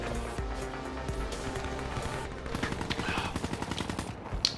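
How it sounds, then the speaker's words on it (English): Rapid automatic gunfire in a shooter video game crackles in dense, regular bursts over a steady background wash of game ambience, growing more insistent toward the end. "He gets shot in the back."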